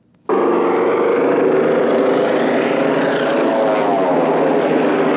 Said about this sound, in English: do you want the airplane sound first? The airplane comes in first.